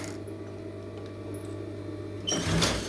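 A sewing machine stitches a model blouse, a steady mechanical whir running throughout that grows louder and busier near the end, with no voices.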